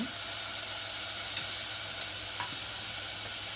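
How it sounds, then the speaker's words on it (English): Sirloin roast drippings sizzling with flour in a hot pan, a steady, loud broadband frying hiss with faint scraping of stirring underneath, continuous and close. "I have a little bit of the drippings from the sirloin roast. And we're going to add that in with the flour."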